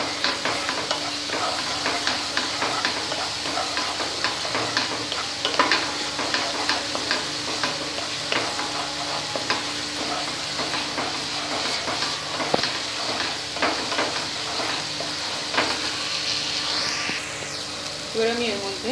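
Chhena frying in a pan as turmeric powder is stirred in for chanar dalna, a continuous close sizzle and hiss with frequent stirring scrapes throughout.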